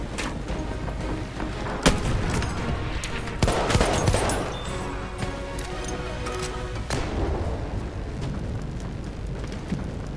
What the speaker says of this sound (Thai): เสียงปืนจากไหนวะ